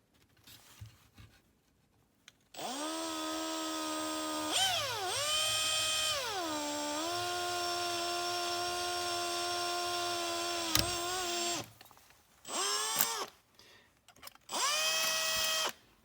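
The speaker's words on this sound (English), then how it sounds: "So I'm going to go ahead and just drill through these" A power drill with a 1/8 bit bores through a metal skid weight plate for a Yokomo RC car, whining steadily for several seconds and dipping in pitch under load, then stopping and restarting in short bursts.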